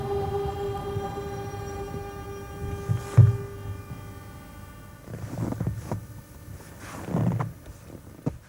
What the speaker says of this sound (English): a train from Pontresina arrives in Ospizio Bernina